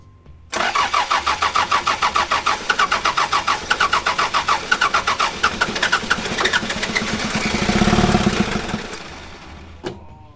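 A Toyota BJ42 LX Land Cruiser diesel cranks in a rapid, even rhythm of starter strokes for several seconds, then fires into a rising roar that fades, ending with a sharp clunk.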